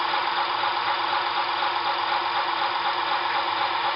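A centrifugal honey extractor spins combs of rapeseed honey with a steady, even whirring hum that holds constant throughout, close and moderately loud, with no talking.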